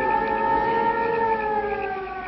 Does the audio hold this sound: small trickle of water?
no